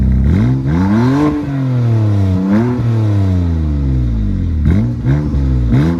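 A stock BMW S55 car engine revs up and down repeatedly, its exhaust note rising and falling in pitch, loud and close, with no talking.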